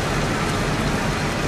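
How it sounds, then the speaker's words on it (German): Rain falls in the video game Heavy Rain as a steady, even hiss of downpour, heard alone without talk. "Mann, hört es nie auf zu regnen?"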